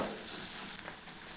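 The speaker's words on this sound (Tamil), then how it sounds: "அந்த மசாலாவை அந்த எண்ணெய் கூடயே சேர்த்து நல்லா வதக்கி விடுங்க." Steady, close sizzling and frying of masala spices in hot oil, with faint stirring scrapes throughout and no voices.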